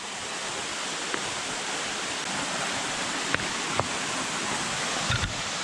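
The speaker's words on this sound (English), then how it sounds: "you get to see this amazing hidden waterfall" A hidden waterfall in Llanwonno, South Wales, pours with a loud, continuous broadband roar, broken only by a few faint clicks and knocks.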